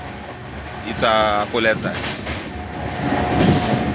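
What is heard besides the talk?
train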